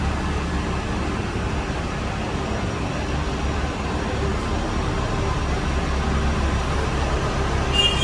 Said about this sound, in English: Big tram.